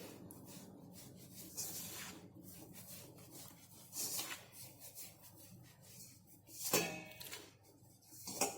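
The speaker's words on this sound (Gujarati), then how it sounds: "આપણે બંને હાથથી આ રીતે લોટને મિક્સ કરીશું" Bare hands rubbing and working wheat flour with hot oil in a bowl, a soft continuous dry rustling and rasping with a few louder scrubbing strokes, close and without any speech.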